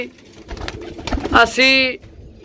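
A pigeon coos once, close and clear, a short throaty call near the end after a few soft rustles and murmurs.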